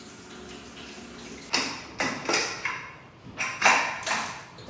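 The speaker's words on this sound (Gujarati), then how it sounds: "હવે આને છે ને આપણે ધોઈ નાખ્યું 2-3 પાણીએ." Chopped, peeled potato, brinjal and carrot being rinsed in water for khichdi, a run of splashing, sloshing bursts with clinks against the vessel, close and moderately loud after a quiet start.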